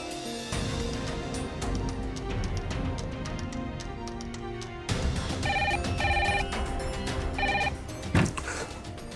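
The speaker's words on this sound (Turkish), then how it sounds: "Neden Dullar evinden kimse telefonu açmıyor?" A telephone ringing unanswered in a house, repeated electronic bell trills pulsing in a regular pattern over a busy background with no one picking up.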